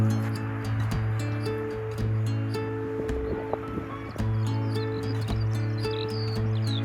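An unidentified bird calls from coastal dunes at Talacre in North Wales, repeated short chirps and squiggly high notes over a steady hum with sharp clicks and a low wind-like background.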